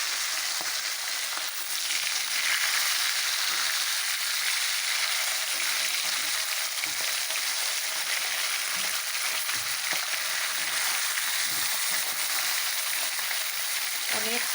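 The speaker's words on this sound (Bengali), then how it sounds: "এদিকে আরও মাছ ভাজি বসিয়ে দিয়েছি, এগুলো হয়ে যাচ্ছে ভাজি।" Fish frying in a pan of oil, a steady broadband sizzle with small crackles holding at an even level throughout, close by, with no talking over it.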